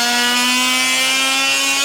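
A power drill bores holes to mount an audio module on an Indian Challenger motorcycle, a loud continuous whine with a steady pitch and strong harmonics, close up and uninterrupted.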